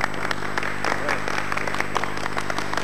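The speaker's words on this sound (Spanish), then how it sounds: "le pido a todos los amigos un aplauso para el amigo acá" Audience applause at a town program in Tranqueras, a moderate patter of individual claps over a steady electrical hum, with some background voices mixed in.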